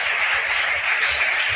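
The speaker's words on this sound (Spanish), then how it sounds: "un aplauso para Antonio que habla de plasticidad" Audience applause for a speaker at a Jot Down science talk, a steady dense wash of many hands clapping, even and sustained throughout with no voices over it.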